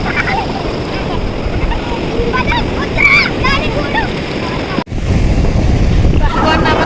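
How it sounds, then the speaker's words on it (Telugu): Big surf crashes and rolls steadily onto a beach under heavy wind buffeting the microphone, with children's voices faintly mixed in and a brief dropout near the end. "అలలు అయితే బాగా ఎక్కువ ఉన్నాయి, భయం వేస్తుంది"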